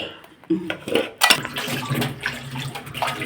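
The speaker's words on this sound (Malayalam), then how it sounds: "ഇതെല്ലാം ഒന്ന് വൃത്തിയായിട്ട് കഴുകിയിട്ട് വരാം" Chopped food ingredients are washed in water in a kitchen, with sloshing, splashing and clinking of a vessel that comes in uneven bursts, close by, as a voice talks in the background.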